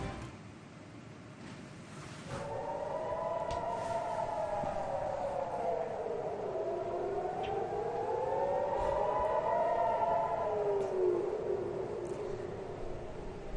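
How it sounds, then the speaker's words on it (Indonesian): Civil defense air raid sirens wail across Ashkelon, Israel, during a rocket attack, a rising and falling tone sweeping slowly up and down for over ten seconds, steady and loud with distant outdoor ambience underneath. "Sirine bergema di kota Ashkelon, Israel"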